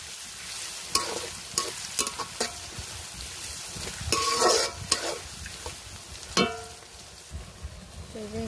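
Whole spices, garam masala and cardamom, sizzle and fry in a pan, with bursts of crackling and several scraping stirs of a utensil against the pan, fairly close.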